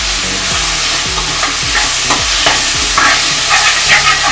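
Andhra-style chilli chicken frying in a pan, stirred with a steady rhythm of scraping strokes roughly every half second over a continuous close sizzle, with no voices.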